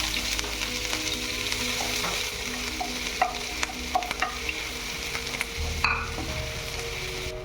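Crushed ginger and garlic fry in hot oil with mustard seeds for a passion fruit pickle, making a steady close sizzle with occasional light scrapes and taps of a stirring spoon against the pan.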